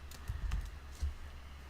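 Git commands being typed on a computer keyboard: a short run of close, quick key clicks, a brief pause, then a couple more taps, with no one speaking.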